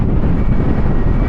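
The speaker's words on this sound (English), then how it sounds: "Whoa! Windy. Very windy." Strong wind roars continuously against the microphone near deep water by a freeway path, a loud, steady buffeting rumble with no pauses.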